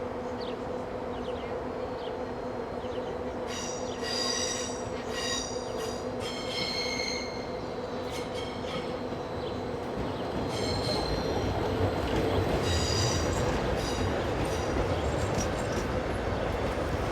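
A Class 415 Stadler Flirt electric multiple unit passes in a steady, loud rumble with bursts of high wheel squeal through the middle and a strengthening roar toward the end.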